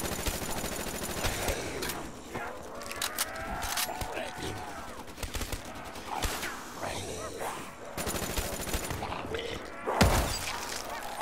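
FFAR rifle fire in a video game's zombies mode, with rapid bursts of shots and shattering impacts mixed into a dense, continuous layer of loud game effects.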